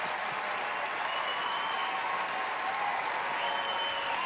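The crowd in the Westminster Dog Show arena in New York City keeps up continuous, even applause, a dense roar of clapping that holds steady throughout.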